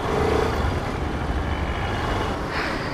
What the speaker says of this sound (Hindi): इधर हमेशा ट्रैफिक ही ट्रैफिक रहता है